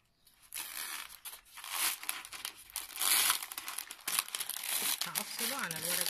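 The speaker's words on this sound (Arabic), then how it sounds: "هرفع الكيس" A plastic heat-transfer bag is lifted and peeled away for a rhinestone template, giving a close, continuous crinkling and crackling that builds in loudness while a voice talks over it.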